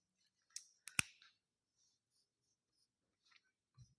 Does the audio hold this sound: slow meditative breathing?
no